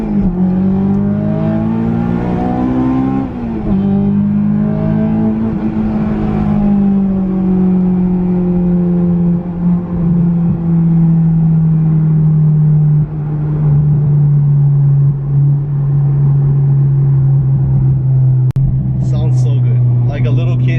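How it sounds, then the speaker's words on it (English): A right-hand-drive Honda S2000 fitted with a Muse exhaust and ARC intake drones loudly and steadily from inside the cabin, its engine note swelling and easing with throttle while people talk over it. "on the S2000 we have the ARC intake setup and the exhaust is a Muse setup, which is one of the best sounding exhausts you can get for the S2000"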